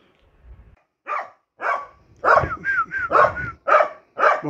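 A female dog guarding her territory at a cemetery grave barks repeatedly, about seven sharp close barks in an irregular rhythm with a whining tonal edge, following a faint low rustle.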